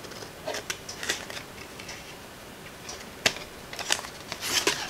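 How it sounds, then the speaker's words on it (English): Scissors cut through card for a folded greeting card, making soft, irregular snips and crisp clicks spread over a few seconds, close up with no talking. "So I'm just going to cut that out like that."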